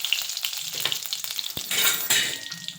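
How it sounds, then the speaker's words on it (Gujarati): Chopped curry leaves dropped into hot oil for a tempering, a bright crackling sizzle that flares up sharply midway with spatters and pops, close and unaccompanied by speech. "તેલ એડ કરી એમાં થોડા લીમડાના પાન નાખીશું"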